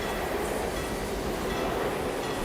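A Southern Pacific Daylight steam-era train rolls past with a steady broadband rumble and faint wheel clatter, a continuous moderately loud pass heard from trackside with no talking.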